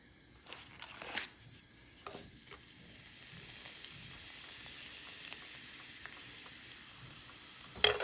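Appalam papadums frying in hot oil, with a soft, steady sizzle building after a few light clicks and taps, quiet and close with no voices.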